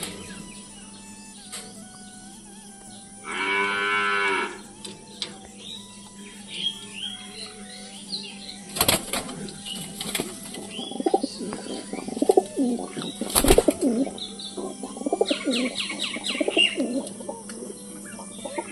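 Pigeons in a loft coo repeatedly at close range, with a louder burst of cooing near the start, scattered chirps and a couple of brief, sharp bursts like flapping wings.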